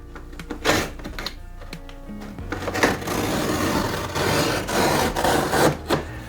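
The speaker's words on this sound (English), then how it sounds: "with our sharp utility knife, we're going to cut right down the side of the box" A sharp utility knife slices down the side of a cardboard box holding a Jamis Boss Cruiser 7-speed bike, giving a continuous rasping, scraping cut with short scratchy bursts, close and moderately loud, over a faint tonal background.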